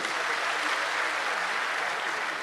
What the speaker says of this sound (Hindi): एक बार जोरदार तालियां होनी चाहिए उनके लिए।